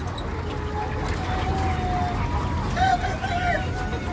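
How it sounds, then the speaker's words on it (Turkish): Roosters at a chicken farm crow a few times over a steady background of many clucking birds. The crows are moderate in volume and sound somewhat distant. "Horozların sesini duyuyorsunuz zaten."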